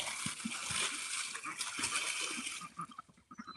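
Ducks splash and slosh in a small filled pool, steady watery splatter close by with scattered thumps, while a person talks over it now and then.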